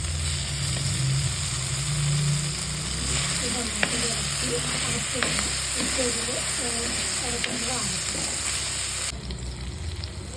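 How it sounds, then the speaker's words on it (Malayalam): Okra fries in a pan for curry, a steady sizzle and hiss under a low background hum, with a few faint scrapes and clicks of stirring. "ഇനി നമുക്ക് വെണ്ടയ്ക്ക ഇട്ട് കൊടുക്കാം"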